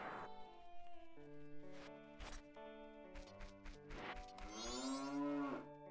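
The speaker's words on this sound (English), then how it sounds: "here's the cows" Cattle mooing on a ranch in the video game The Legend of Zelda: Majora's Mask, several drawn-out synthesized moos over a game music loop, with one long rising bellow near the end.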